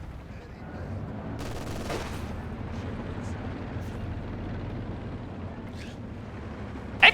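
A rocket artillery low angle barrage in Company of Heroes rumbles as a dense, continuous roll of distant explosions and rapid launches, steady throughout with a sharp crack at the very end.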